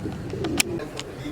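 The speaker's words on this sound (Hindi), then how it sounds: "आइए इनके कबूतर भी देखते हैं" Pigeons of a champion Lahore breed coo softly in short repeated bursts, close by, over a murmur of background noise.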